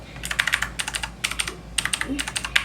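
Fast bursts of clacky keystrokes on an AUKEY mechanical gaming keyboard with RGB backlight come in quick runs separated by short pauses, close and crisp with no talking.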